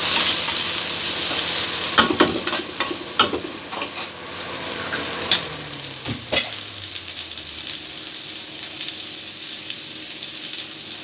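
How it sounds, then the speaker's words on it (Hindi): Potatoes frying in a pan for an Odia fish curry, a steady close sizzle with occasional stirring scrapes and clicks, no talk. "एबे आलू तो भल भाव फ्राए गला"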